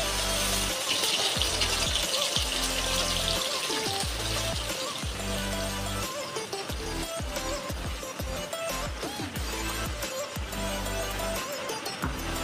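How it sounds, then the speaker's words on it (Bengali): Spice paste for chicken kosha hits hot oil in a pan and sizzles, a loud steady hiss that runs throughout with a few crackles and no voices. "এবার তেল গরম হয়ে গেছে, এবার তেলে মশলাটা ছেড়ে দেবো আস্তে আস্তে।"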